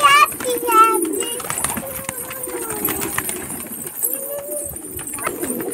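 Pigeons feeding on scattered grain give soft, low cooing calls up close, mixed with wing flutters and the voices of children and adults talking nearby.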